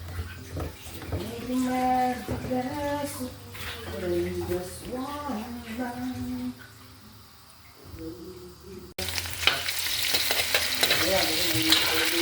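Potatoes and carrots fry and are stirred in a pan for a Filipino-style chicken curry, with steady sizzling and scraping under a person talking, then a louder, brighter hiss of frying near the end.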